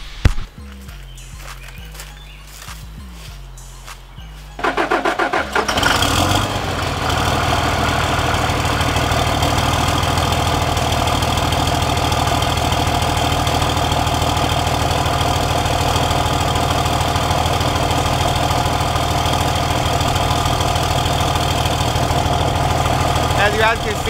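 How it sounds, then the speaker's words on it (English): A third-generation Ram 3500 pickup truck engine cold-starts after some early talk and clatter, then settles into a loud, steady, rumbling idle that holds for about twenty seconds. "I do want to go ahead and give you guys a little cold start"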